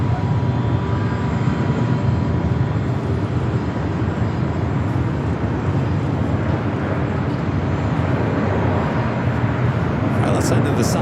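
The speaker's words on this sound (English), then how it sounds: "China Cargo 777 freighter touching down at 25 at the left" Air China Cargo Boeing 777 freighter touching down on runway 25 left at Los Angeles International Airport, a steady broad roar of jet engine noise lasting throughout, loud and continuous with a voice talking over it.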